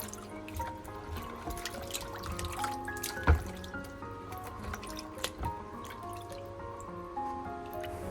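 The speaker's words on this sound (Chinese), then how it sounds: "洗着洗着，这盆水就已经变得非常的脏了。" Vegetables are washed by hand in a basin of water, with soft drips, trickles and small splashes as the water is stirred, faint and close, with a sharper splash near the middle.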